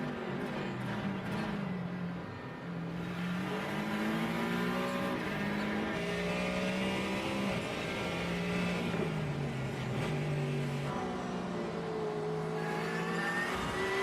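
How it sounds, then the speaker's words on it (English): GT3 race cars roar past at Road America one after another, their engines rising and falling in pitch as they accelerate and shift, loud and continuous throughout. "Now you can hear the cars all have a little bit different sound to them."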